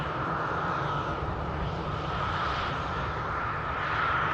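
An EasyJet Switzerland airliner taxiing at Manchester Airport, a steady, loud broadband jet engine rumble and hiss with a constant whine, held evenly throughout.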